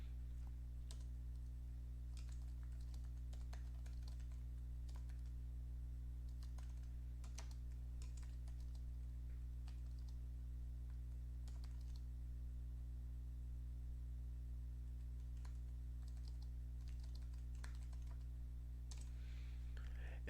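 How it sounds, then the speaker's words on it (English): Soft, irregular clatter of keystrokes on a computer keyboard, scattered bursts of taps over a steady low electrical hum, fairly quiet and close, with no talking. "and you can just start typing."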